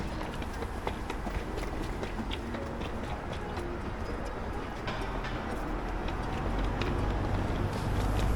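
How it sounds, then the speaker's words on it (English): A London Underground tube train in motion rumbles along the tracks from inside the carriage, a steady loud roar with faint rattles that swells slightly toward the end, with no speech over it. "even just taking the train"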